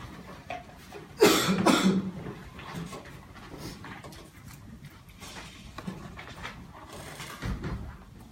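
Coughing from the audience at a round-table discussion, with one loud burst of coughs early on that gives way to quieter rustling and shuffling in the room.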